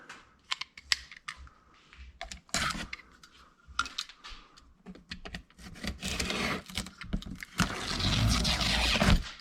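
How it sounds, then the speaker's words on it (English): A knife making a shallow cut through the tape and cardboard of a shipping box holding a C7 Corvette cold air intake, heard as close, uneven scratches and tearing scrapes that grow into a longer rasp near the end. "Shallow cut so we don't hurt anything inside."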